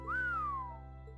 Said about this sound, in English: What was that whistle?